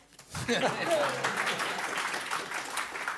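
Audience applause at a symposium in Villa Voerendaal, a steady wash of many hands clapping that swells quickly and holds for about three seconds, with some voices mixed in.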